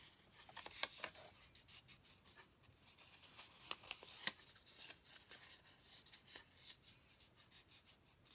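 Soft, close paper rustling and light creasing of book pages being folded for a junk journal, with scattered small scrapes and taps at a quiet level.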